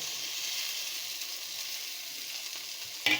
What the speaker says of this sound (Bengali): এই যে চিংড়ি মাছগুলো ভেজে রেখেছিলাম, চিংড়ি মাছগুলো দিয়ে দেব